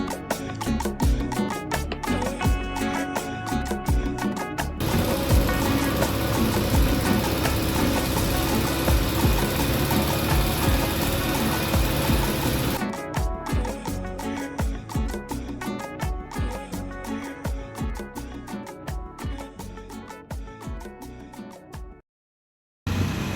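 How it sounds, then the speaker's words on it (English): Loud, steady roar of a long-tail boat engine near Phang Nga, Thailand, throbbing with rapid pulsing and rising to a heavier surge before cutting out near the end. "enjoyed the boat ride on the long boat back towards Phang Nga"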